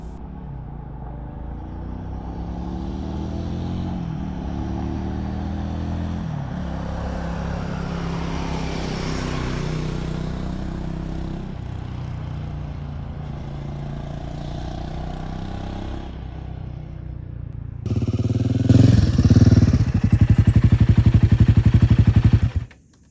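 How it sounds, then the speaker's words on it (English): A lowered Royal Enfield Himalayan 450 motorcycle with a 450 engine rides a Thai touring road, its engine droning steadily with shifting pitch and wind noise, then growing louder and harsher toward the end, no talk. "a lowered Himalayan 450 with that hooligan 450 engine on one of Thailand's best touring roads"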